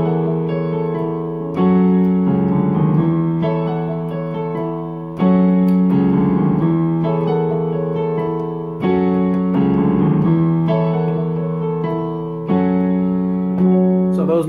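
Piano playing a song, repeated chords with octave bass notes in a steady bouncing rhythm, close and clear, with no talking.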